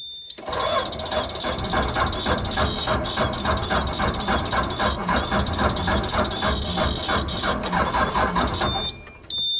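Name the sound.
1996 Bluebird bus engine cranking slowly on a low battery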